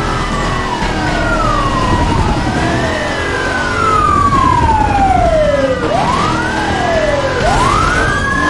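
A police siren from the 2005 racing game Need for Speed Most Wanted wails loud and close, its tone sweeping slowly up and down in long, continuous cycles with no talking over it.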